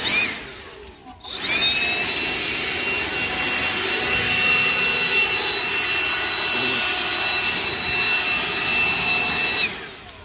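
DeWalt 20V Gen 2 brushless cordless blower (DCBL722P1) running close up, a loud, steady high-pitched jet-like whoosh with a whining tone that starts after a brief spin-up and holds for about eight seconds before easing off.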